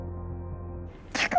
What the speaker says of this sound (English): What a petite sneeze.